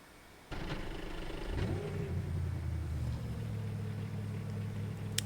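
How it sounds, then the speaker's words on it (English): Engine of a Cadillac V-Series.R GTP prototype race car in iRacing fires up and revs, sweeping up in pitch, then settling into a steady, humming idle, loud and alone. "I did turn up the volume for the engine, so it may be a little louder than my speaking volume"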